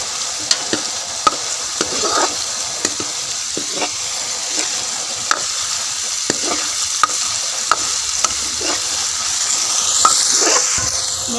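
Food stirred and fried in a pan until browned, with a steady sizzle under repeated scrapes and clinks of the spoon against the pan, close and fairly loud throughout.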